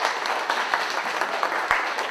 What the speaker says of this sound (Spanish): Por favor, recíbanla con un aplauso.